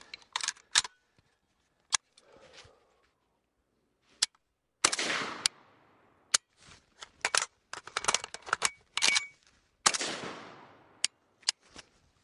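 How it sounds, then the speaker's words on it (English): Kalashnikov rifle magazine being swapped in a reverse reload: a run of sharp metallic clicks and clacks, with a scraping rattle and a couple of louder snaps, close and alone. "now let's try the reverse reload"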